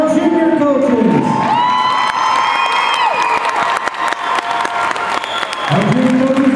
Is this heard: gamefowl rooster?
no